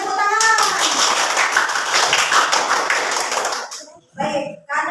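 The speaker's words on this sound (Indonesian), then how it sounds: "Ya, semuanya tepuk tangan." A classroom of children claps together after a science lesson, with dense hand claps carrying close and steady for several seconds before breaking off into a few scattered claps and talking voices.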